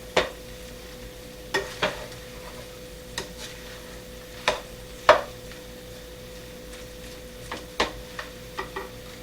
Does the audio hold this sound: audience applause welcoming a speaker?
no